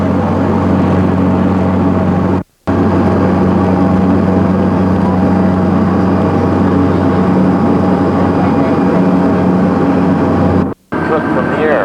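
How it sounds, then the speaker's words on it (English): Ski plane flying toward Queenstown with a steady, loud propeller engine drone that holds throughout, broken only by two brief dropouts; no talk is heard. "Ski plane that we should have gone on yesterday, but it's too much wind."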